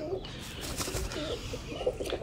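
Pigeons kept for pigeon fancying in Sialkot, Pakistan, with soft cooing and brief bursts of flapping wings close by, under low background noise and murmuring voices.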